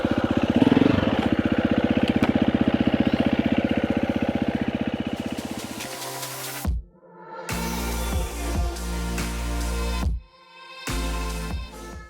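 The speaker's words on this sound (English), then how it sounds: "You can see and hear, hopefully, that the revs are never very high." Motorcycle engine held at low revs during a slow pivot turn: a steady, pulsing low idle-like thrum close by, then bursts of mid-range engine tone broken by abrupt gaps of near-silence.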